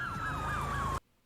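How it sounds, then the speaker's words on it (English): A wailing siren in Baltimore, Maryland, from The Wire season 3 episode 10, sweeps up and down steadily over a low traffic rumble, then cuts off abruptly into near silence. "You don't hear them sirens?"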